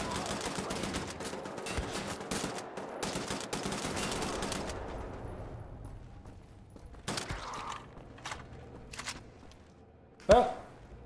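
Rapid video game gunfire in a rattling, continuous burst that thins into scattered single shots and ends with one louder close crack, with a voice talking over parts of it.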